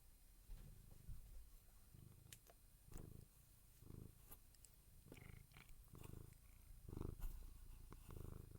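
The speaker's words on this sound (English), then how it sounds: "he's going to purr and" A male cat purrs softly and closely in a quiet room, a rhythmic rumbling in repeated breaths, faint and alone without talk.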